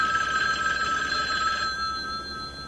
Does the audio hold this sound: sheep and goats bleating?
no